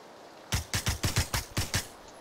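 PUBG gunfire: eight sharp shots in a quick, slightly uneven burst, crisp and fairly close, with short gaps between each crack and no talking over them.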